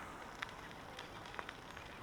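Rain falls steadily and softly outdoors along a bike trail in the Minnesota River bluffs, a faint continuous hiss broken by a few scattered drop ticks.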